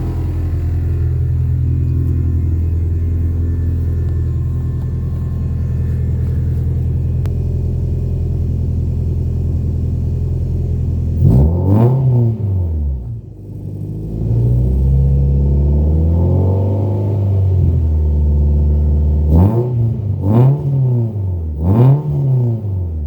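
Sprinter van engine idling and revving through a newly fitted quieter muffler: a steady low rumble that swells into several distinct rev-ups, each rising and falling, near and alone with no talk.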